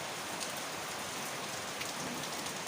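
Steady rain falling and pattering on surfaces, a dense even hiss with scattered drop taps throughout, no voices.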